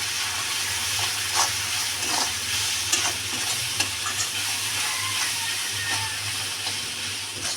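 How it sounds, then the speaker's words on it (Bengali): Spice paste frying with browned onions in a pan, a loud continuous sizzle and hiss with soft scraping stirs throughout, close and without talk. "যতক্ষণ মশলাটা ভাজা হচ্ছে,"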